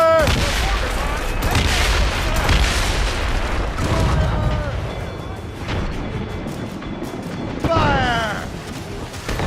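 Ship cannons fire a broadside in Assassin's Creed Rogue: a loud, dense run of booming blasts that keep rolling together, with shouting voices over the battle.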